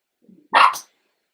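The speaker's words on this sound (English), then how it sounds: "Yep, that was the dogs." Dogs bark in a board game of fantasy creatures, a short burst of one or two loud barks near the listener, after faint low rustling, then silence.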